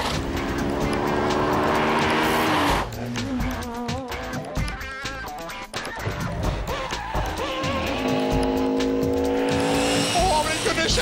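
Off-road vehicle from an MJ Trailer driven at full speed: loud continuous engine roar with revving and surging, close, with voices speaking over it.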